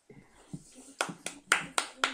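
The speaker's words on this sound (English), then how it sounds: "Thank you for clapping." Hands clap five times in a quick, evenly spaced run during a casual tabletop game session, close and crisp, with faint room murmur in the gaps before the claps begin.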